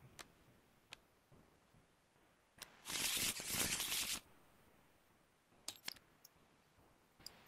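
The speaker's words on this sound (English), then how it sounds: "then we shuffle the rest" A deck of cards is shuffled at a board game table: a dense riffling burst of about a second stands out amid scattered soft clicks and taps, fairly close and alone.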